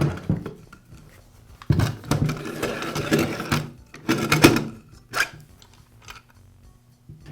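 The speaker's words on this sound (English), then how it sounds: "I'll begin by removing the base from the router." Clicks, rattles and scraping handling noises as the base is worked off a Porter Cable router during a repair, in several short bursts with quiet gaps, close and moderately loud, no talking.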